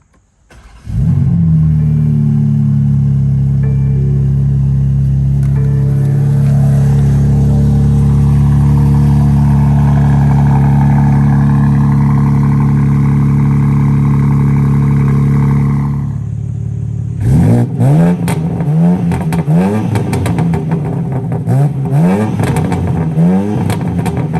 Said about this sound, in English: hit the red start-stop button down here to fire it up